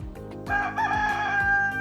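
A rooster crows loudly and close by, one long drawn-out cock-a-doodle-doo over a steady low rumbling background.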